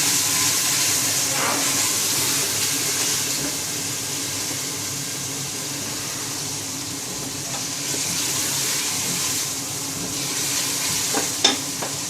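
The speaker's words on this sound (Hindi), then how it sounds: "अब हम इसको अच्छे तरीके से इसको भूनेंगे कुछ देर के लिए।" Spice masala for mutton trotters (paya) frying in a pan, a steady close hiss with occasional scrape and clink as it is stirred, no voices.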